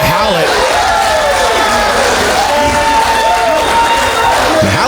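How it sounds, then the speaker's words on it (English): A crowd cheering at a pro wrestling show in the Camelot Ballroom in Kansas City, a steady roar of voices mixed with a commentator talking over it. "Howlett surprisingly getting some cheers out of this crowd here at the Camelot Ballroom"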